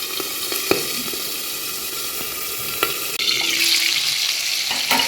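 Fish sizzling in hot oil, a dense steady frying hiss that swells louder as more pieces go into the pan, with a few small clinks, close and continuous with no talk.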